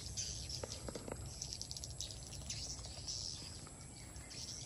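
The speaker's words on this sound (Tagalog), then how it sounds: "ayan yung mga ibon guys sa taas." Swiftlets chirp overhead inside an enclosed swiftlet farmhouse, a continuous high, busy twittering from many birds over a faint steady hum.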